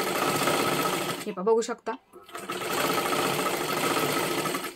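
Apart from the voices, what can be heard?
sewing machine doing double stitching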